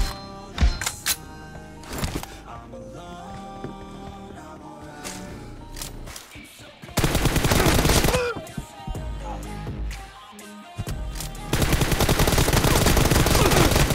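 Gunfire from the battle-royale game PUBG: loud bursts of automatic shots, with a dense sustained volley near the middle and another at the end, separated by scattered single cracks and thuds.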